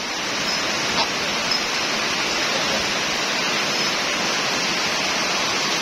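Heavy rain pours down steadily on a farm after a long hot spell, a dense, even hiss that holds loud and unbroken throughout, with no talking.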